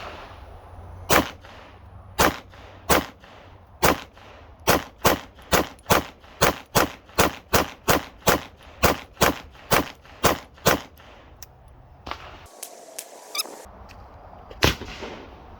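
Pistol shots from a Staccato C2 fitted with a Parker Mountain Machine compensator ring out in a long string of about nineteen sharp, loud reports. They come in quick, steady succession with short pauses, and two more shots land after a brief gap near the end.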